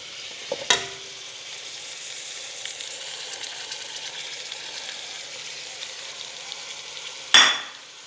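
Carrots and zucchini sizzle steadily in a frying pan, a soft continuous hiss with a couple of sharp utensil clinks against the pan at the start and near the end.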